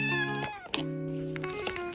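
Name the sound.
cat meowing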